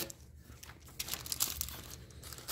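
Packing tape being torn off a package during an unboxing, a continuous close crinkling and ripping with irregular crackles and brief louder tears.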